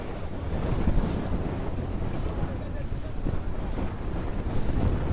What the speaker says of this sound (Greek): Βλέπετε, έχει αυξηθεί τόσο το κύμα.